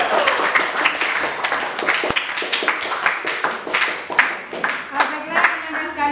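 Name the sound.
audience clapping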